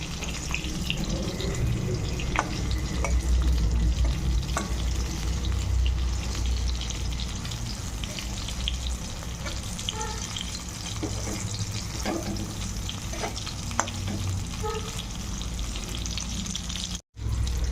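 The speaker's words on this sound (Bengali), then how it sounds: "দেখো করলাটা আমার উল্টে পাল্টে ভাজা হয়ে গেছে" Whole bitter gourds fry in a pan with a dense, steady sizzle, with occasional light clicks from stirring and a brief dropout near the end.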